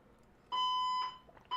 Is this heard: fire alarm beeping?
yes